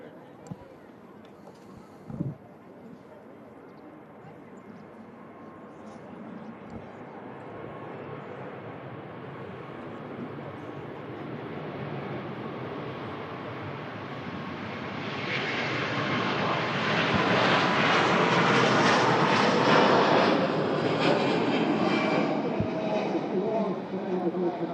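A large airliner powers up for takeoff on a 5,087-mile flight to Las Vegas, its steady engine roar swelling louder and fuller midway through and holding strong to the end, with a brief knock early on.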